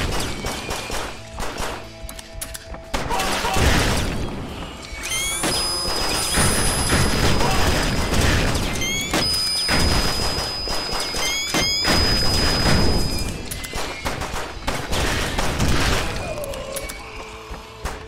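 Rapid gunfire fills the fast-paced shooter Post Void, with dense bursts of shots and thuds running almost continuously, loud and close, layered over game music and effects.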